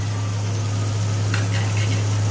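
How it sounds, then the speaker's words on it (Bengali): Ginger garlic paste frying with tomato, onion and spices for a chickpea dal ghugni: a steady, loud sizzling hiss over a constant low hum, with a brief brighter spatter partway through. "আদা রসুন বাটা দিয়ে ভালো করে মশলার সাথে কষিয়ে নেব।"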